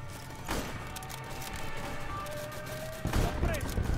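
A Stuka dive-bomber strafes during a dive run in the WW2 battle game Easy Red 2, a continuous rattle of distant gunfire with a louder burst near the end over a busy battlefield.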